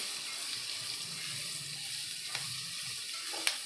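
Onions fry in a pan for dhaba-style whole masoor dal, a faint, steady sizzling hiss broken by a couple of soft clicks.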